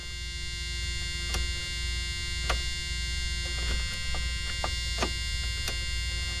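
The blower motor of a 1981 Dodge D150 truck running, a steady droning electric hum with a buzzy whine, broken by occasional faint clicks and ticks.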